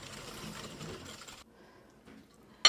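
Two large eggs being mixed into muffin batter for bakery-style chocolate chunk streusel muffins, a whirring mechanical mixer drone that cuts off partway, followed by faint clinks, no speech.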